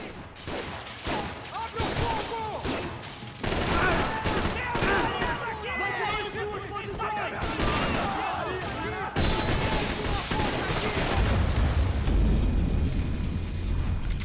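Gunfire and explosions in the video game Max Payne 3: dense bursts of shots and blasts continue throughout, loud and busy, mixed with in-game voices and music.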